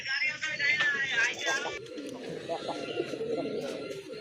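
Large pigeons coo in soft, throaty rolls close by, partly overlapped by a person talking.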